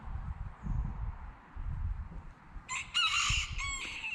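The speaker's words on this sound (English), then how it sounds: "Technically, I guess they're roosters" Roosters crow with a loud, harmonic cock-a-doodle-doo in the second half, rising over low rumbling and rustling background noise.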